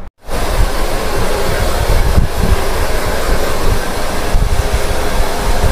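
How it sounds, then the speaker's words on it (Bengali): A hair dryer blows continuously on freshly shampooed and conditioned hair before a layered haircut, a loud, steady rushing airflow close to the microphone after a brief click on. "একটু ড্রায়ার দিয়ে শুকিয়ে"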